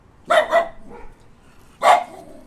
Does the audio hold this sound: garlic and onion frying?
no